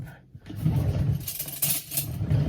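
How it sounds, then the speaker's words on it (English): Gingerbread cookie ingredients, including cinnamon and salt, being mixed in a bowl, heard as a steady low scraping and stirring with brighter clinks near the end and no talk. "now I'm gonna go ahead and mix this up"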